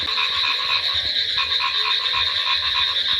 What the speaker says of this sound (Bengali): ব্যাঙের ডাক আর ঝিঝি পোকার ডাক শুরু হয়ে গেছে